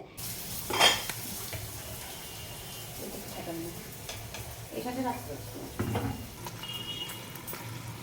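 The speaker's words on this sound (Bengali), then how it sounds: "আমি এখন একটু লুচি ভাজছি লাঞ্চের জন্য" Luchi fries in a pan with a soft, continuous sizzle, mixed with kitchen clatter, a clank of utensils and some running-water-like background noise at moderate distance.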